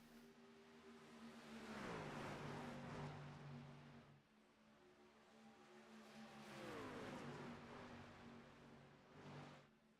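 Race trucks at Las Vegas Motor Speedway scream past in two waves, each high engine whine swelling and then dropping in pitch as it goes by, loud and fairly close, with no voices over them.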